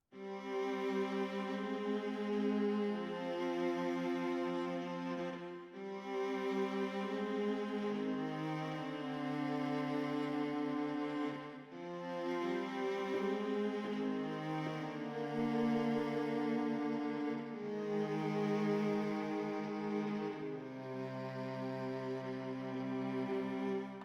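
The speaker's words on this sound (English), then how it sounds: "Full viola sounds like this." A full viola section from a Ben Osterhouse string sample library plays sustained, layered chords in slow, smooth phrases, warm and even in volume, with no voices.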